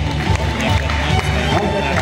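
Dense, continuous applause from a crowd at a sports event, with voices mixed into the clapping throughout.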